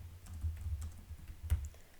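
Keys tapped on a computer keyboard in quick irregular bursts of clicks, close and fairly quiet, with no one speaking.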